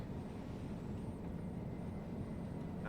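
Airliner engines roar in a steady, distant wash at Los Angeles International Airport in Microsoft Flight Simulator 2020, a continuous broadband rumble with no voices.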